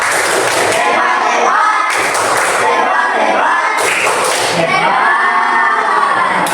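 A classroom of children does the 'tepuk hebat' chant: loud rhythmic clapping and thumping mixed with excited shouting voices, repeating in short bursts.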